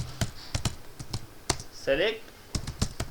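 Keyboard keys tapped in short bursts while a SQL select query is typed, close and fairly loud, with a brief spoken phrase in the middle.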